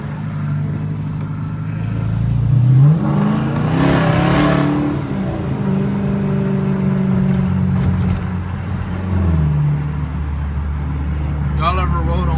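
400 hp Dodge Challenger R/T engine revving up and settling during a drive, a loud, steady, rising and falling drone with someone talking over it.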